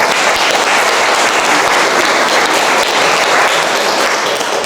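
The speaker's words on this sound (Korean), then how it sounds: "큰 박수로 맞이해 주시기 바랍니다." A large audience at a city hall open-administration event in Uijeongbu applauds a presenter, a loud, dense and continuous wash of clapping that holds steady throughout.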